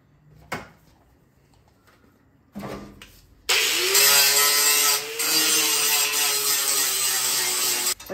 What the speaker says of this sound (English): I like using a grinder.